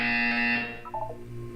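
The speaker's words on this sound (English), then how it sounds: "You will hear a buzzer." A loud, harsh buzzer sounds in the video game Portal 2, holding steady for about half a second before fading out into a low hum.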